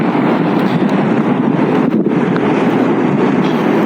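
Wind buffets a camera and an unsteady tripod standing on sand outdoors, a loud, steady roaring rumble that stays constant with slight gusting throughout and no voices.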